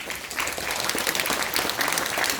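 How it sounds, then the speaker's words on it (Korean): A packed hall at a public housing district briefing gives a lawyer full applause as he comes to the stage, a brief, thick and steady burst of clapping. "나올 때 큰 박수를 부탁드리겠습니다."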